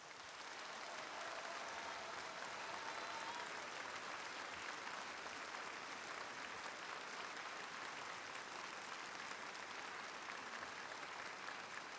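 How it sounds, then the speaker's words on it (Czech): A full hall at Prague's Lucerna gives long, steady applause, a dense even wash of clapping that holds for the whole stretch without fading, with no voices over it. "protože ty potlesky jsou tady tak krásné a dlouhé"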